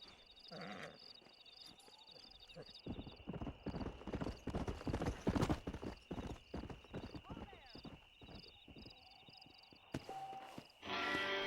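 Horse hooves clip-clop steadily close by in the video game Red Dead Redemption, with a whinny near the start and a brief high-pitched note toward the end.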